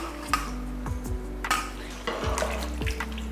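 A spoon scrapes and clinks around a pressure cooker while mutton dum biryani with leftover coriander and mint is stirred, a steady run of metallic scraping strokes over a soft sizzle, close and moderately loud.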